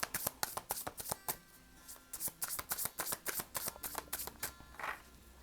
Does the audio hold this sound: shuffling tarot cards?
yes